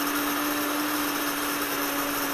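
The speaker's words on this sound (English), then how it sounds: "at the end the pitch of the grinder will go a little louder" Electric wheat grinder milling grain into flour, a loud, constant high-pitched motor whine with a steady tonal hum and dense grinding hiss, close and unbroken.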